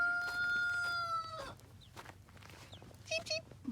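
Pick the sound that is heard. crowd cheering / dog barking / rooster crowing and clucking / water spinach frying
rooster crowing and clucking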